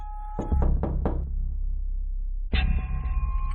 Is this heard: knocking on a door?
yes